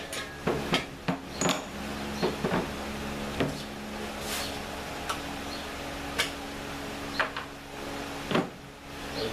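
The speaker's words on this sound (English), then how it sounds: "I have to install the caster on the bottom of this." Metal parts of a Summit Racing engine stand clink and tap as a caster is fitted to its base, a run of sharp close knocks and ticks at an irregular rhythm over a steady low hum.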